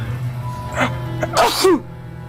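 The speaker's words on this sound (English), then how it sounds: "Yeah, those were sneezes." A couple of sneezes burst out in quick succession, loud and close, over a low steady hum from a video game.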